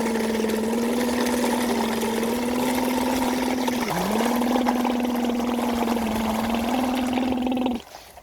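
A toy lion lets out a long electronic roar, a steady buzzing growl with a brief dip in the middle, loud and close, cutting off abruptly near the end.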